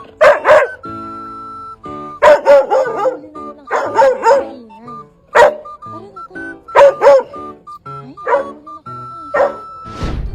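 A dog barks in loud, close bursts mixed with whiny yips and howl-like calls over a faint, steady tone in the background.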